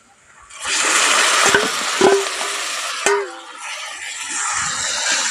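Banana flower paste drops into spices frying in a pan, raising a loud, dense sizzle that holds steady, punctuated by a couple of sharp metallic knocks from stirring.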